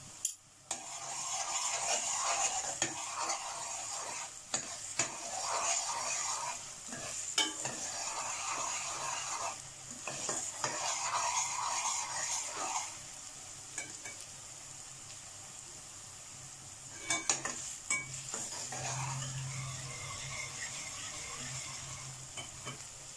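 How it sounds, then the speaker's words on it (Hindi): Onions with ginger garlic paste fry with steady sizzling in a pan, broken by repeated stirring and spoon scrapes, close up and fairly loud throughout. "ये अदरक और लहसुन का पेस्ट डाल के इन्हें भी फ्राई करूंगी"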